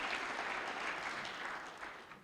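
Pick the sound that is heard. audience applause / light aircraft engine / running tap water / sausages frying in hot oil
audience applause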